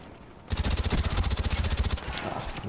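Rapid automatic rifle fire in Call of Duty, a sustained close burst of fast, evenly spaced shots lasting about a second and a half, then tapering into softer trailing shots.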